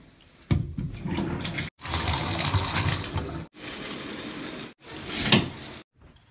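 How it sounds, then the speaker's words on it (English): Water gushing in a shower comes in several separate bursts, loud and close, broken by short silences where the flow stops. "Anyways, it's time for me to get a shower."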